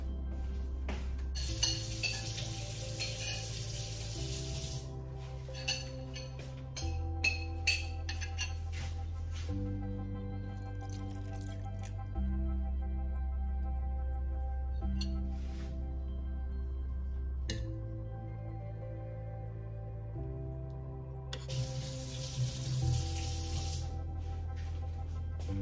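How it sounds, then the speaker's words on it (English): Water poured into a pot to rinse it while making tilapia soup, heard as a quiet hissing spray in two bursts with light clinks of cookware, all under steady background music. "I'm gonna put a little bit of water in here to rinse it"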